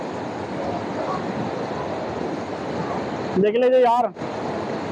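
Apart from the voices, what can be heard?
water flowing out of Manjhar Kund pool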